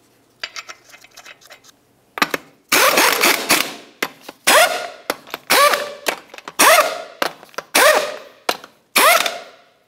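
An impact or air tool snugs the six 22 mm lug nuts on a Chevrolet Tahoe front wheel, with a string of loud, sharp bursts, each trailing off, separated by brief pauses, no talk.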